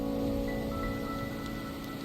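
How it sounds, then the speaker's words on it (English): Steady, dense rain falls on a surface in a video game, a continuous wash of drops holding an even level throughout with no voices. "Here we stand, united by the rain"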